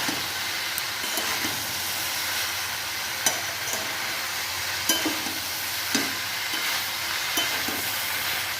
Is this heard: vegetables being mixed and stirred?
yes